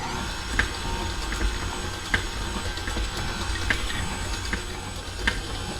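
An electric mixer whirs steadily while blending pound cake batter made with almond and vanilla extract, a low mechanical hum with a few soft knocks from the beaters against the bowl.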